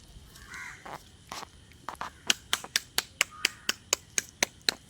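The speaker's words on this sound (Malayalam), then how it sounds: "കാക്കയ്ക്ക് കൊടുക്കാൻ നമ്മൾ ബലിയിട്ട് കഴിഞ്ഞതിന് ശേഷം കൈ കൊട്ടണം" A crow caws a few times, then a person claps hands in a steady run of about a dozen sharp, close claps to call crows to a Karkidaka Vavu ritual offering.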